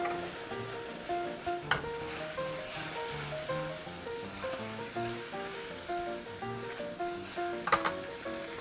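Chicken wings braise in sauce in a single pan over high heat, bubbling and sizzling in a steady, moderate wash with a couple of brief utensil clinks and no talk.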